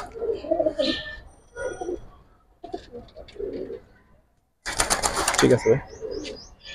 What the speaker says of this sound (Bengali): লাফালাফি করে পাখি কবুতর